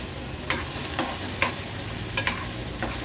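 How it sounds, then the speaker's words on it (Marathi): Finely chopped onion fries softly in a pan on a low gas flame, with a low steady sizzle broken by a few sharp taps of a spoon stirring it. "लो फ्लेमवर कांदा व्यवस्थित आपल्याला मिक्स करून घ्यायचे।"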